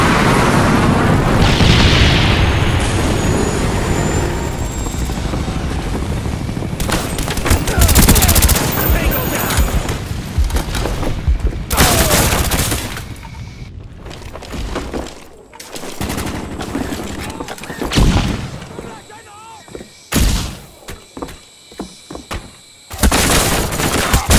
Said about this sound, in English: Friendly napalm strike on the way.